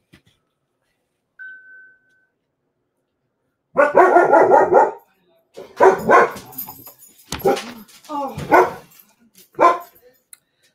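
A dog barks in loud, close bursts: one long volley, then several separate barks and yips spaced over a few seconds, with a brief voice heard once.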